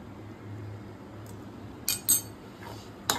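Spoon clinking against a bowl while paneer is mixed with spice paste and coconut water, a few light scattered clinks over a low steady kitchen hum.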